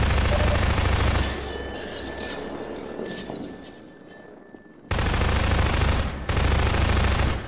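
Rapid bursts of automatic fire from the MP7 submachine gun in Half-Life 2, loud and dense, with a quieter lull midway before the firing resumes.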